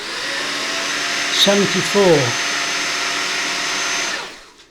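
A Levoit LVAC-300 pet cordless vacuum cleaner with HEPA filter runs with a steady, loud motor whine, while a voice speaks briefly over it midway, before the motor switches off and winds down.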